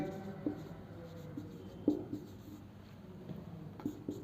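Pen or chalk writing on paper or a board during a Hindi literature class gives soft scratchy strokes with a few sharper taps, faint against a quiet room.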